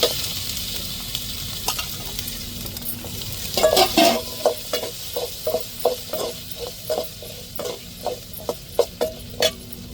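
Tomato, chilli and onion frying in a pan, a steady sizzle with a burst of spatter, then a rhythmic series of spoon scrapes and knocks stirring the mixture.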